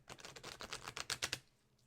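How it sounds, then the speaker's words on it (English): Tarot cards being shuffled: a quick run of crisp, papery flicks and riffles lasting just over a second, then near silence. "So I will shuffle first."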